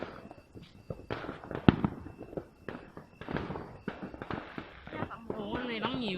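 Fireworks burst on Lunar New Year's Eve in rural Dong Nai, Vietnam, with sharp cracks and pops scattered throughout and one loud bang near the start. People talk over the explosions.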